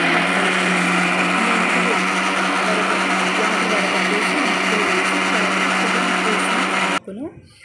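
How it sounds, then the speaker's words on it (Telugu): A kitchen mixer grinder blends hibiscus leaves with aloe vera in a steady, loud, continuous whir that runs for about seven seconds, then cuts off abruptly, leaving a brief quieter tail. "మందారం ఆకును అందులో వేసేసి, ఈ యొక్క కలబందను కూడా అందులో వేసేసి మిక్సీలో మిక్స్ పట్టుకోవాలి"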